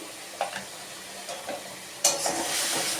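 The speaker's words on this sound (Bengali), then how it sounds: "এবার আমি ভালো করে কষিয়ে নেব নুন দিয়ে দিলাম স্বাদ অনুযায়ী" Spice paste being sautéed with salt in a pan for an omelette curry, a low sizzle broken by a few scraping stir strokes, louder from the two-second mark on.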